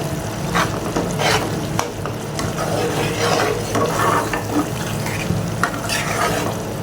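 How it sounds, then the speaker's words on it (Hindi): Mash dal cooked with cardamom, cinnamon, black pepper and cumin powder is stirred in a pot, producing a steady close squelching, scraping churn with a faint sizzle underneath, with no voices. "अभी हम इसको करेंगे अच्छे से मिक्स।"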